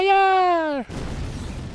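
A Fire spell is cast in Final Fantasy X in Kilika Woods: a shouting voice is cut off by a short, crackling burst of noise that fades out.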